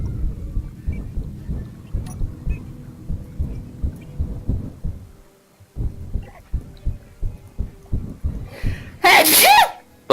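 A person lets out a single loud, sharp sneeze near the end, right after several seconds of quiet talking and low rumbling.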